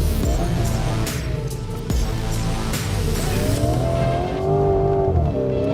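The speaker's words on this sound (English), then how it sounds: "As you can see, power oversteering is something you can easily do." A 2025 Lamborghini Urus SE power-oversteering, its engine roaring loudly and continuously with rising and falling revs, mixed with tire squeal throughout.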